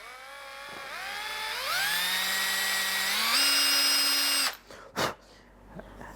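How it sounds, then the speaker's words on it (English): A small power drill gently clears excess paint from an M4 screw hole, whining up in pitch in stepped bursts as it speeds, then cutting off abruptly, followed by a couple of short knocks close by. "So out comes my drill."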